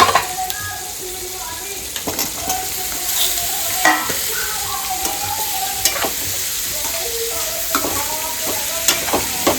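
Fresh fish fries in a pan with a steady, close crackling sizzle throughout, dotted with brief pops and spatters, fairly loud and alone without talk.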